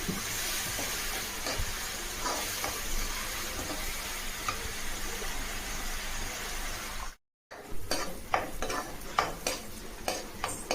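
Onion paste frying in a pan for boti fry, a soft continuous sizzle with occasional stirring scrapes, briefly cutting out before resuming with sharper stirring clatter.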